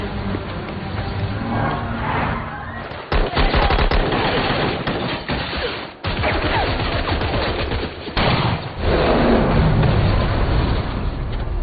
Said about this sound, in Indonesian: Baku kejar dan baku tembak kembali tak terhindarkan.